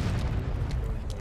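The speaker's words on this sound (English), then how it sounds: "I love the sound of cannons in the distance." Distant cannon fire in the War of Rights game, a low rumbling boom rolling steadily under the battlefield ambience with faint crackles, heard briefly without speech.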